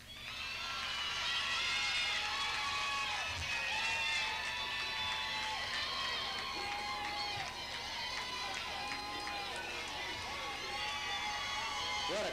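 A large crowd at a college commencement ceremony cheers and claps in a broad, distant roar, with whoops and voices mixed in throughout.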